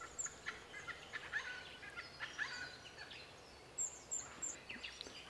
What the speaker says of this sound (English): The lake's ecosystem supports masses of aquatic birds,